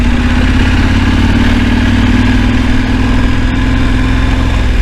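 A KTM 1290 Adventure motorcycle engine chugs steadily up a dirt track, its loud low throb and rumble constant throughout with no voices.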